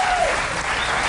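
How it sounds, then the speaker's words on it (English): Studio audience applause on a late-night talk show, a dense steady wash of many hands clapping at full volume throughout. "More applause from this section."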